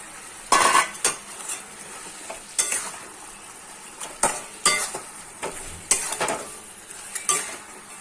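Chicken cooked with mustard paste being stirred in a pan, with a spoon scraping the pan in regular strokes about every second over a low, steady sizzle, and no voices.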